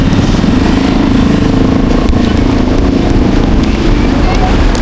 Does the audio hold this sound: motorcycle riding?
yes